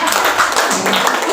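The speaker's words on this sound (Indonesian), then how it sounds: "Monggo tepuk tangan untuk Bu Nursia Bu." Audience clapping for Bu Nursia at a plenary meeting, a brief burst of dense hand claps filling the space, moderately loud, with a little talk mixed in.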